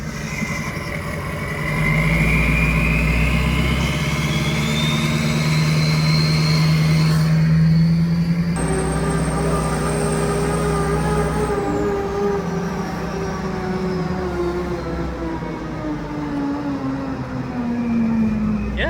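The massive engine of the world's largest truck, fitted with a twin transmission, rumbles deeply up close while gear whine rises and shifts in pitch as the rear transmission is engaged, sustained loud throughout.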